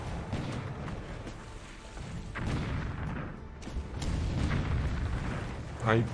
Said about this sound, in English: one of our heavy cruisers is going to get smacked by Arakan's coastal guns